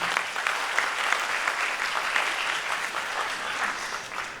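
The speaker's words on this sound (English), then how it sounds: "please give him a big round of applause, Mr. Peter Kwa." Sustained applause from a conference audience welcoming a keynote speaker at the BIGIT 2019 event, a dense steady clatter of many hands throughout without pause.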